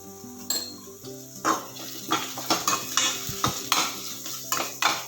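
Garlic, cumin and salt fry in a pan for a Bendekayi gojju (bhindi gravy) while a spoon scrapes and stirs, giving repeated metallic clinks and scrapes over a steady sizzle, with a tonal hum underneath.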